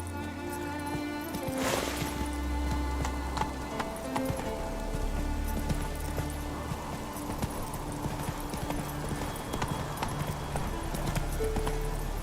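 Roach the horse gallops in The Witcher 3, hooves clip-clopping in a quick, steady rhythm over a soft rain-like wash and faint ambient music.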